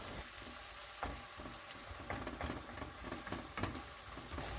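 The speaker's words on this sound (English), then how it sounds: "And then put kimchi and kimchi juice. Stir fry several times." Kimchi and its juice stir-fried in a pan for kimchi fried rice, a steady close sizzle broken by repeated scraping stirs of a spatula throughout.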